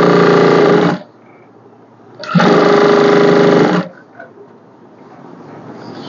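A sewing machine stitches a blouse in two sustained bursts of fast mechanical whirring, the first about a second long and the second closer to one and a half, each followed by near quiet.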